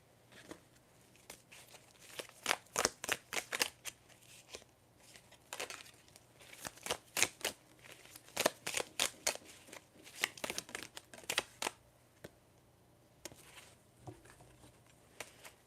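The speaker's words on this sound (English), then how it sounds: "I'm going to shuffle" Tarot cards being shuffled by hand close up, a long run of quick, crisp riffling and slapping bursts in irregular rhythm, fairly quiet overall.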